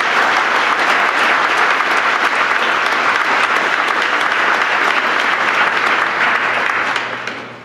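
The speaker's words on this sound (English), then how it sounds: "How about a huge round of applause for our senior athletes?" Sustained, dense applause from a banquet crowd honouring senior athletes at a high school awards and hall of fame event, steady for several seconds before tapering off.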